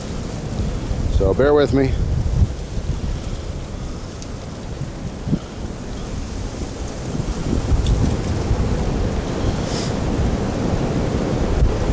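Very strong wind gusting outdoors on a cold day, a loud, continuous buffeting roar of low rumbling noise that swells and eases, with a person briefly talking near the start.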